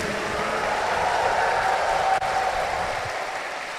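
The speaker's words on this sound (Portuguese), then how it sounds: "A Ele uma salva de palmas bem forte também" A large crowd at a Catholic Sunday Mass applauds steadily and loudly, a dense wash of clapping that holds throughout before easing slightly at the end.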